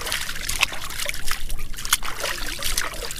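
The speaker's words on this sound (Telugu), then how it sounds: "గుహలోకి వెళ్ళే ముందు ఇక్కడ కృష్ణానది ఉంది" Water laps and trickles along the bank of the Krishna River near the Daida Caves, a close, uneven run of small splashes and dribbles with no speech.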